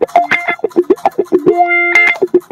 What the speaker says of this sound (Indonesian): Nah, itu suara wah.